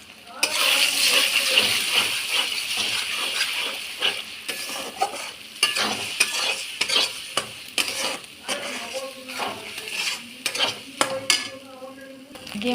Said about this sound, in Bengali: এই 3টে ডিম আমি ভেজে নিচ্ছি, ঝুরি করে নেব